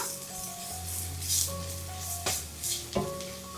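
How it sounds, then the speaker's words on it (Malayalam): Ground spice powders, including fennel powder, sizzle and scrape as they are stirred in a hot pan, a steady near frying hiss broken by a few sharper scrapes of the spoon. "ഇനി പൊടികളുടെ പച്ചമണം മാറി കിട്ടുന്നത് വരെ ഒന്ന് ഇളക്കി കൊടുക്കുക"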